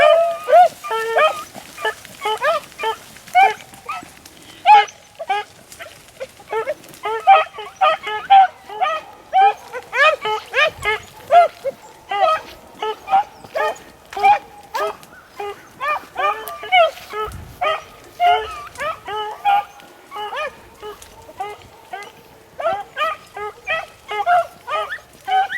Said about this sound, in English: I hear some puppies opening up.